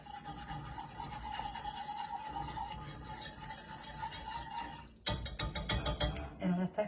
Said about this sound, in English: Give it a little whisk.